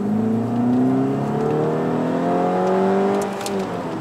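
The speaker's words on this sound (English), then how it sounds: "I hope you guys can hear how the car sounds" A Volkswagen Scirocco 2.0 TSI engine revs loudly and steadily, its pitch climbing and falling in smooth sweeps, close and continuous for several seconds.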